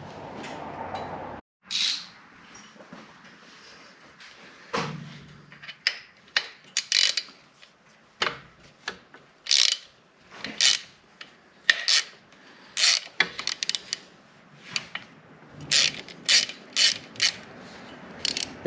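A 3/16 Allen wrench turns on a motorcycle heel shifter during installation, giving a series of short, close metallic clicks and scraping rasps in irregular bursts, with no talking.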